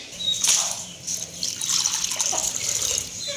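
Water splashing and trickling as it is poured, close by, in a couple of short gushes over a few seconds.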